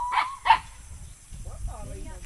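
Two sharp dog barks close together near the start, followed by low murmuring voices and background clatter.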